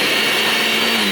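A blender grinding Cheetos into crumbs runs as a loud, steady, high-pitched motor whine, close up and continuous for the whole short stretch, with no talk.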